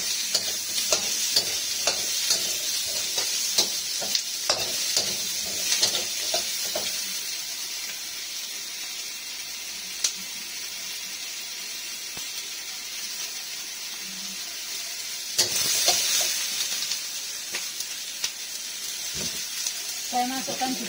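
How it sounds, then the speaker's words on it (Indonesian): Meat is dry stir-fried in a pan for a Taiwanese-style semur beef stew, with soft sizzling and the scraping of a spatula stirring in bursts, quieter stretches between. "Ini digongso supaya enggak panggang"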